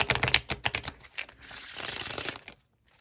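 A deck of tarot cards is shuffled by hand, a fast run of crisp flicking riffles, then a softer continuous rustle before it stops abruptly.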